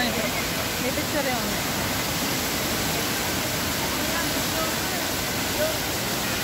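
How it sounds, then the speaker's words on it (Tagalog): Tay-Tay Falls in Laguna pours water down in a loud, constant roar that stays steady and unbroken throughout. "So lakas pa ng bagsak ng tubig galing sa taas ng falls."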